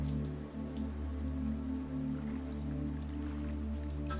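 Rain falling in the GodSIM video game, a steady patter of droplets over a constant low hum of game and computer noise, moderately quiet and with no talking.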